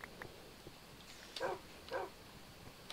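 A dog in Minecraft (Tekkit modpack) gives two short, moderately loud barks about half a second apart against quiet game ambience, with fainter yips earlier.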